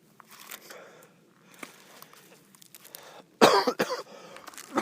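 A person coughs several times, scattered soft coughs building to a louder, harsher burst of coughing near the end, close to the microphone with no talking.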